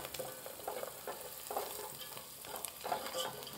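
Onion and curry leaves being sautéed in a pan for kanda poha, cooked at a school: repeated close spatula scraping and stirring strokes over a steady low sizzle, with no one speaking.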